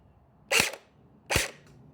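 An X-Force Tactical MP5 V2 airsoft gun fires two sharp, cracking shots about a second apart through a chronograph, each a crisp snap over a quiet background.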